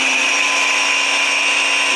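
An Active 2.0 pressure washer with a 1.15 nozzle runs continuously while feeding a foam cannon, giving a loud, steady, unbroken high-pitched whine and hiss with no talking.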